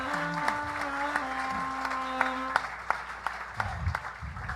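Audience applause at a live comedy roast show, a steady wash of clapping lasting several seconds with a few louder claps and cheers near the end.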